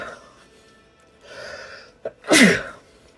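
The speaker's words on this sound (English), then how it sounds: "I gotta sneeze." A single sharp sneeze bursts out near the end, preceded by a quiet breathy build-up and a brief catch of breath during a live card-opening session at a card shop.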